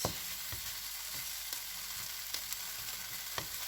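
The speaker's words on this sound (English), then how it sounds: "I'm going to put the onion, try and scrape the onion sort of to one side" Chopped onion frying in a pan for a slow cooker sausage casserole, a steady close sizzle with a few sharp scraping clicks as it is pushed to one side.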